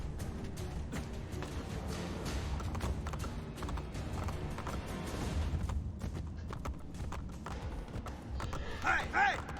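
Horse hooves clip-clop in Assassin's Creed: Brotherhood, a quick galloping patter running under game effects and someone talking over it, with a brief flurry near the end.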